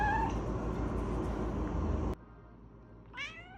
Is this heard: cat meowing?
yes